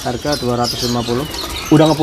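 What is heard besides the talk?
caged birds chirping at bird market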